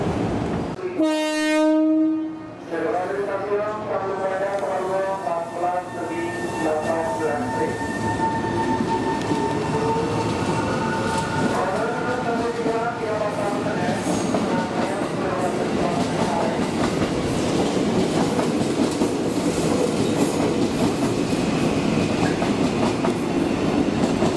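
An electric KRL commuter train rolls past with a loud blast of its horn near the start, followed by steady rumbling, wheel clatter and squealing tones as the carriages continue by.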